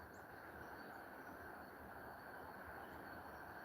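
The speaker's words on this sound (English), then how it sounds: "Ah, it's a train!" A train in a video game rumbles steadily and continuously, a broad, dense mechanical roar at low level throughout with no speech over it.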